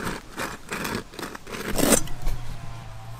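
A folding saw rasps through wood in a few quick back-and-forth strokes, scratchy and close, ending with a sharper grinding pull.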